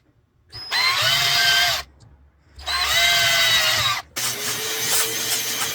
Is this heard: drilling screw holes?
yes